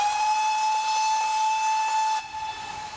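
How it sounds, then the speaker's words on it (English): Steam locomotive whistle from a Manor Class engine on the Dartmouth Steam Railway, a loud sustained tonal blast with hissing steam that cuts off abruptly near the end, leaving softer hiss. "I shut up for the whistle, don't want to ruin that for you"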